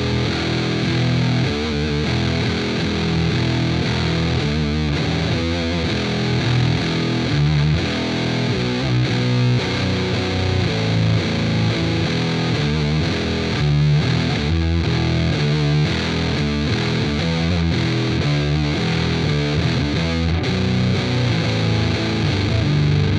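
An electric guitar in E standard plays a riff through a Danelectro Cool Cat Fuzz pedal fed by an octave-down pitch shifter at 50% mix, producing loud, thick, messy distorted tone with rhythmic chugging notes throughout and no talking.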